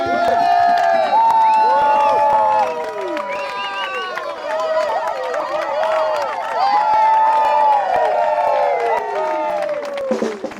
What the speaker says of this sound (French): Allez, on s'applaudit!